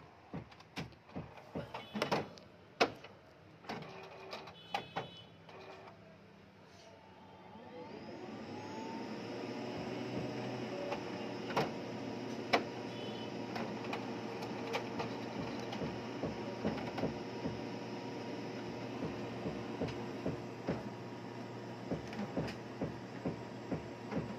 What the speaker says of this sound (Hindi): यहाँ की मोटर जो है आवाज़ कर रही है